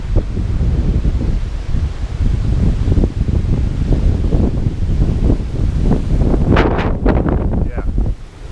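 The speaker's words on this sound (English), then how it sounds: "it's so windy" Strong wind gusts steadily outdoors beside a 1988 Suburban project, a continuous rough roar buffeting the microphone with sharper gusts near the end.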